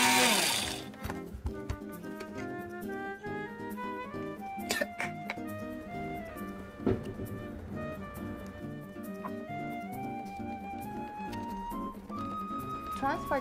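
An electric grinder whirs in short bursts while chopping yuzu and chillies, a motor hum rising and falling in pitch with choppy pulses, fairly quiet and close.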